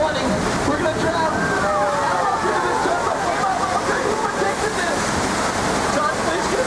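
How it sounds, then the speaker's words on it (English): Water rushes and sloshes loudly and continuously on a flood effect at Universal Studios Hollywood, like a heavy churning flow, with voices faintly mixed in. "What's that noise? We got water. We're flooding."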